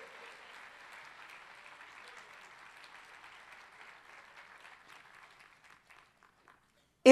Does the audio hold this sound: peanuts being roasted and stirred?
no